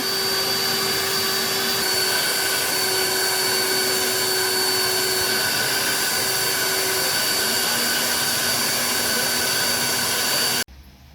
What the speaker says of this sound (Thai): ดูดฝุ่นทำความสะอาดภายในรถให้นะคะ